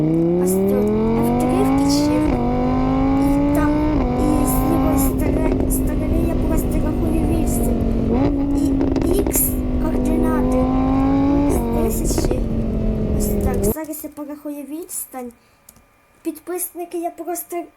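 A car drives in the Minecraft video game, its engine tone droning loud and steady with a few pitch steps as it shifts, then cutting out near the end, leaving quieter clicks.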